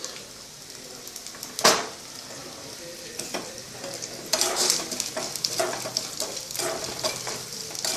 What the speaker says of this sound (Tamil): கொஞ்சம் சூடாக கோல்டன் ப்ரௌனில் வர அளவுக்கு பொரிச்சுக்க போகிறோம்